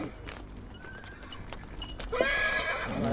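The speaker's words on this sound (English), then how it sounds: "Usually these animals pull farm carts, but today they're war horses." Farm cart horses pressed into service as war horses, being groomed, give a loud close whinny late on, with scattered hoof clops and shuffling beforehand.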